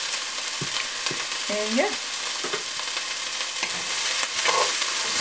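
Sliced bell peppers fry in a pan with a constant crackling sizzle, broken by occasional utensil knocks and scrapes as they are stirred; a brief voice speaks over the cooking.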